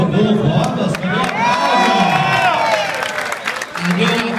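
A crowd cheers and applauds for Bruno Rodas at the announcement of João Doria's primary election victory. The sound is loud and close, with shouts and whoops under a voice, then fades briefly before rising again.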